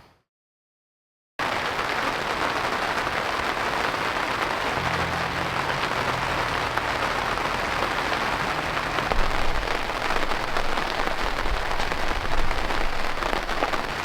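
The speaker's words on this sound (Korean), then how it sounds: "오늘 비가 오는 줄 몰랐는데 비가 꽤 많이 내리네요." Heavy rain falls on a campsite as a steady, dense hiss of drops striking the surface, starting abruptly after a second of silence and continuing loud and unbroken, with no voices.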